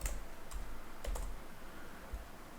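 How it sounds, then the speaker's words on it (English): Fast typing on a computer keyboard comes through as scattered, quick key taps under a steady background hiss, fairly faint and close, with no talking. "so I'm just typing it fast."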